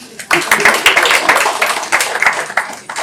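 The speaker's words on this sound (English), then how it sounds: "Let's clap again" An audience at a startup and company compliance talk claps together, dense loud applause close by with sharp individual claps and a voice or two mixed in.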